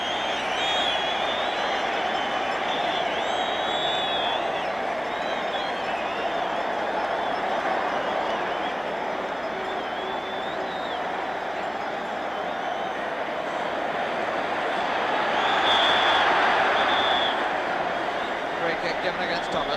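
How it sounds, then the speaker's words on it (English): A stadium crowd at an England versus Czechoslovakia European Championship qualifier in 1976 applauds and roars in a sustained, broad wash of clapping and cheering that swells louder near the end, heard at a distance. "And listen to the applause for Bell and for England."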